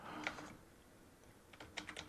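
Short bursts of typing on a computer keyboard, a few quick clicks near the start and another flurry of keystrokes toward the end, with a quiet pause between.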